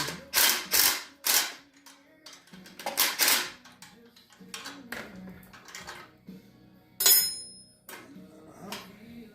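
Mechanism of a Delta drill press being adjusted and tightened during restoration: close, loud metallic ratcheting and clanking in bursts, a brief high metallic squeal, and quieter knocks between.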